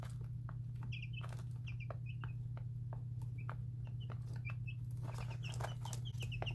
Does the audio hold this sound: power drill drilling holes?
no